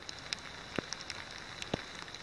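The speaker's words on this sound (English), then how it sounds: "it just started to rain" Rain beginning to fall outdoors, with scattered sharp drops tapping nearby surfaces over a faint steady background hiss.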